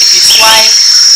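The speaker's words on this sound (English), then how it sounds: "this is the sound of the forest." Forest ambience from a white noise app: steady high cricket chirring with a soft hiss of wind or leaves, continuous and fairly loud, with someone briefly talking over it.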